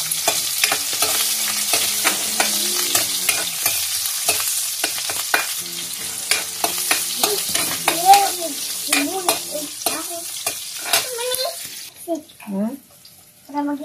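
Onion and garlic fry in a pan with a steady, bright, close sizzle and stirring clicks; voices talk over it toward the end as the sizzle fades.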